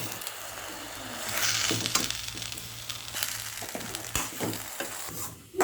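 Grated raw mango chutney sizzles and fries in a pan while being stirred, a steady crackling hiss with intermittent scraping and clinks of the spoon, close and continuous.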